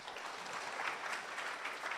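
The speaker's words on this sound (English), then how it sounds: "Can we please give a round of applause to Huawei?" An audience at an MTN ICT seminar on digital transformation and IoT gives Huawei a round of applause: dense, steady clapping from a large crowd that fills the whole stretch at an even loudness.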